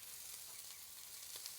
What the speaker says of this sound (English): Ooh, love that sizzle.